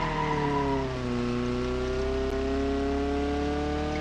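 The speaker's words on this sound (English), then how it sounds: "Oops, didn't mean to grind the gears like that." A car engine revs steadily high, around 6,000 RPM, with a sustained harmonic drone and a slight dip near the one-second mark; no clear grinding of gears stands out, and nobody speaks.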